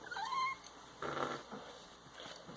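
A house cat purrs close by, a soft steady rumble with brief louder swells, while faint high tones sit in the background and no one speaks.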